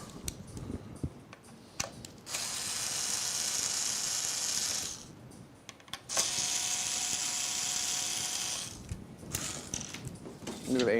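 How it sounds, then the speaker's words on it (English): Factory AMD CPU cooler mounting brackets are removed from a PC build with a tool that makes two long, steady whirring mechanical runs, separated by short clicks and handling noises. "Let's get our factory brackets off."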